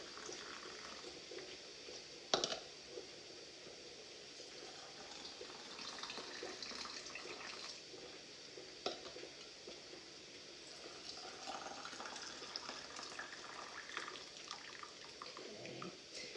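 Hot liquid is poured from a coffee pot into canning jars while canning pork and beans, a steady close pouring and trickling with occasional clinks, sounding alone without talk.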